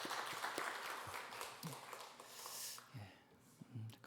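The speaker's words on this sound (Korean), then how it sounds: "우리 한번 격려의 박수 주겠습니다." A church congregation at a Sunday service gives a quiet, faint round of encouraging applause, soft and diffuse, with a few low thumps and voices mixed in.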